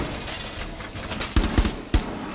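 Gunfire in the tactical shooter Rainbow Six Siege: a few sharp, loud shots crack out in a quick burst, then one more after a short pause, over low background game ambience.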